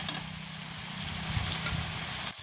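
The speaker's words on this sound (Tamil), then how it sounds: "நல்லா கிண்டி விடுவோம் நல்லா வதங்கிட்டு" A village cook stirs and sautés in a frying pan, with a steady close sizzle and scraping stir strokes for a few seconds, no voices over it.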